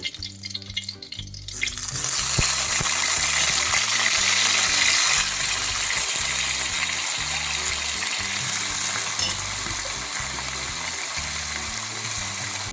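Brinjal pieces drop into a frying pan of hot oil with fried green chillies, and a sudden loud, close sizzle bursts in and then keeps crackling steadily.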